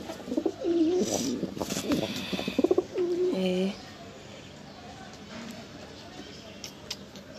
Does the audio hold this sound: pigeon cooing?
yes